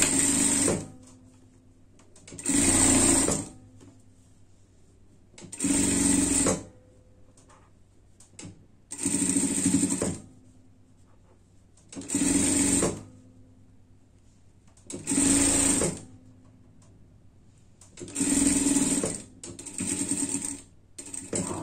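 A sewing machine stitches a seam on a frog-themed pet costume, working near a metal eyelet. It runs in about eight steady bursts of a few seconds each, separated by short quiet pauses, close and clear with no talking.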